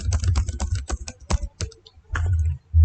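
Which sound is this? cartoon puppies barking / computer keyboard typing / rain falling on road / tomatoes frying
computer keyboard typing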